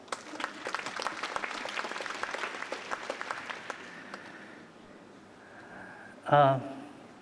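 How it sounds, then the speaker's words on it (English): An audience at a scientific lecture applauds to welcome the speaker, with steady clapping that fades after about five seconds, followed by a brief loud voice near the microphone. "giving a big round of applause"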